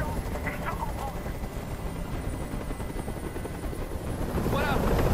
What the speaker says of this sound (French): Je ne peux plus supporter ce bruit. Fais dégager cet hélicoptère